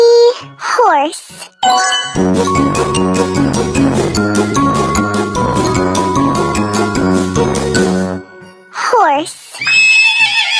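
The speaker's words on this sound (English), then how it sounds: "H-O-R-S-S-S-E. Horse." A horse gives loud, whinnying neighs at the start and end, with a jingling musical passage in between and a voice speaking.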